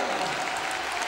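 Dense, continuous applause from a basketball crowd celebrating, loud and steady throughout a brief stretch.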